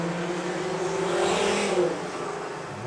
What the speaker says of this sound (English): And there's a getaway car.